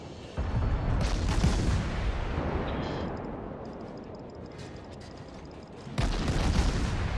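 Warship guns firing in World of Warships, with heavy booming salvos at the start and again near the end and a rumbling roll of detonations decaying in between.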